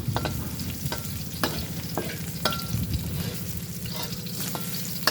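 Long eggplant stir-frying in a pan, a constant dense sizzle broken by repeated scraping and clacking strokes of the spatula at an irregular rhythm, close and fairly loud.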